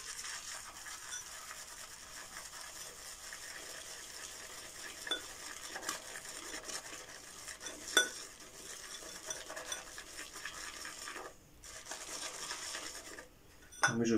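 A shaving brush whips Omega shaving cream into lather in a small bowl, giving a continuous wet swishing and stirring with occasional sharper clinks against the bowl, close and moderately quiet.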